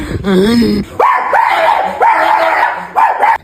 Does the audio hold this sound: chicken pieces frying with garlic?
no